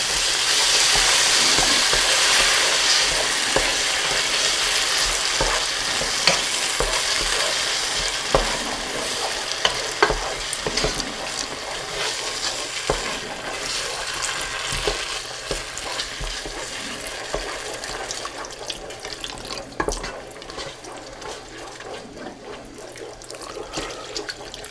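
Clam broth pours into a pot of New England clam chowder, giving a steady close rush of liquid over sizzling and stirring that gradually thins into irregular splashes and clinks.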